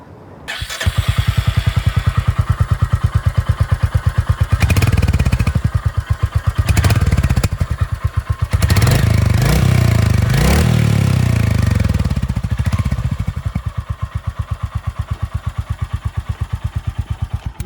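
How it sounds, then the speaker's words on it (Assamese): A Royal Enfield Hunter 350 motorcycle idles in neutral close by, its exhaust giving a loud, steady thumping beat with a few brief blips of throttle midway before it settles back to idle, and no one speaks. "এতিয়া আমি শুনি আছোঁ ৰয়েল এনফিল্ডৰ এইখন বাইকৰ চাউণ্ড এক্সজষ্ট নোটটোৰ কাৰণে"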